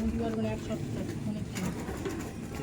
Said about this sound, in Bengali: এই দেখুন এটা মেল পায়রা আছে আপনার সামনে তুলে ধরছি।